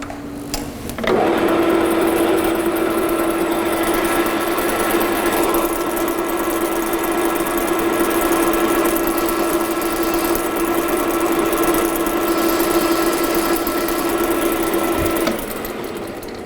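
Metal lathe running steadily while turning a chamfer to break a sharp edge on a metal workpiece, a loud constant mechanical hum with a steady tone that starts abruptly, holds for about fourteen seconds, then cuts off.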